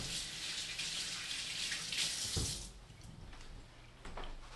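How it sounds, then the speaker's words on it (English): A kitchen tap runs steadily while hands are washed beneath it, making a close, continuous splashing hiss with a few brief knocks and shifts in the flow partway through. No one speaks. "I'm gonna wash my hands."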